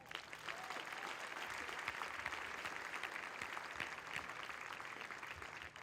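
Audience applause at an Air Force Basic Military Training graduation ceremony, a steady wash of many hands clapping at moderate level throughout, sounding fairly distant and spread across a large crowd.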